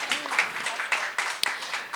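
Brief burst of audience clapping at a live talk event, a small crowd applauding with scattered irregular claps, moderately loud over a faint murmur.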